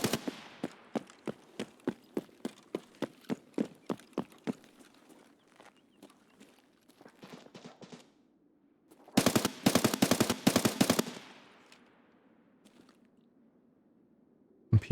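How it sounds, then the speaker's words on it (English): Video game gunfire from PMC soldiers rattles in the distance, first as a long string of evenly spaced single shots, then as a denser automatic burst after a lull. The shots sound faint against near silence. "Some PMC shooting over there."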